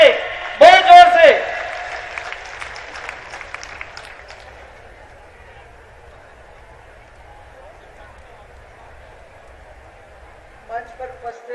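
Applause rises to welcome Chief Minister Vasundhara Raje at a public event in Malasari, Asind: a loud burst near the start, then a sustained crowd clapping and murmur that fades gradually, with a brief flurry again at the end.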